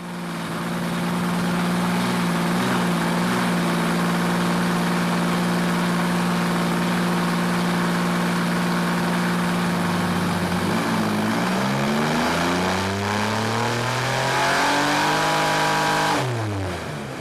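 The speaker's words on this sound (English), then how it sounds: "It was running a bit rich, and Keith Stewart out in Rongatea worked his magic on it and got it running mint again" A New Zealand stockcar engine, recently retuned after running rich, idles steadily up close and then revs up, its pitch climbing through several rises before dropping back, loud and alone without talk.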